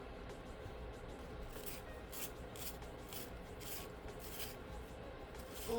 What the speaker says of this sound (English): all the sharpening